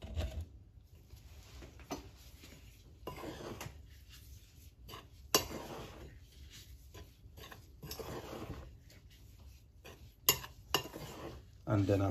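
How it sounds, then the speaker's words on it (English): Dry ingredients for sweet potato sugar buns are stirred in a bowl, and a utensil scrapes and taps steadily against the sides, with occasional louder knocks, close up in a quiet kitchen. "Just gonna get these dry ingredients mixing together."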